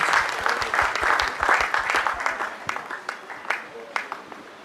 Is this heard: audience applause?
yes